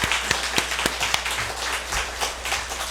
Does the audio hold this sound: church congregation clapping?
yes